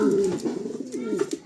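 A pair of pigeons, an input male and a grizzle barless female, cooing close by in a loft, with steady low throaty coos running throughout the short stretch.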